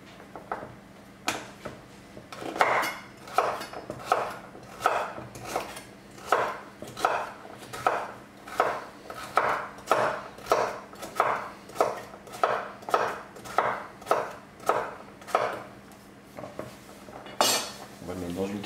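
A knife chops pumpkin flesh into small pieces on a board, a steady series of about twenty crisp, close thuds at a regular pace with a faint background hum.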